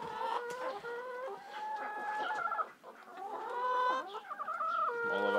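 Backyard hens clucking in a continuous, chattering series of calls, fairly close and clear, with some louder rising squawks toward the end.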